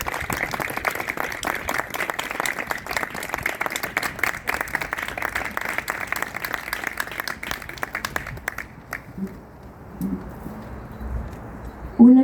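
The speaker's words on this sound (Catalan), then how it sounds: "Un aplaudiment." Audience applause at a street gathering of the Mesa de Catalunya, dense steady clapping for about nine seconds that then stops abruptly, leaving quieter room noise and a few voices.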